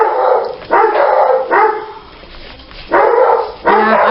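Several pet dogs in a home bark loudly and close by as a family member arrives, in repeated bursts of sharp barks and yips with short pauses between, no talk.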